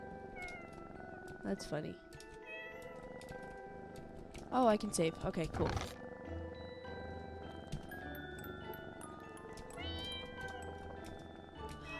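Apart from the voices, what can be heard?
cats meowing in the video game Pocket Mirror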